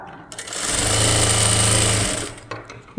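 A sewing machine stitches the front neck of a lined blouse, rising into a loud, fast, steady mechanical whir for about a second and a half before winding down, with a few handling clicks around it.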